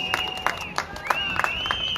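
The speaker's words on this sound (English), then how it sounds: "How about one more round of applause for the players, the band, the cheerleaders today" A football crowd applauds players, band and cheerleaders after a game, with steady clapping and cheering and a few sharper claps and whistles rising above the noise.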